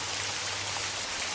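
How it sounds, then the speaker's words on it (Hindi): Steady rain falls in the rainy season, a continuous even hiss of drops on surfaces with no break, no voices and a faint low hum underneath. "बरसात का मौसम आ गया"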